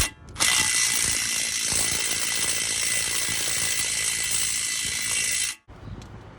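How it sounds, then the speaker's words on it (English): A pneumatic impact wrench runs a tie rod castle nut tight on a 1998 Jeep Grand Cherokee, one steady loud burst of whirring and hammering lasting about five seconds before cutting off, close up with no talking. "Then you're gonna get your impact. Just hit it, the impact."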